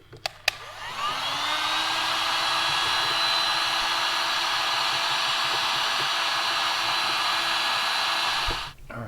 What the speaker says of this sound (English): I'm going to apply just a little bit of heat with a heat gun.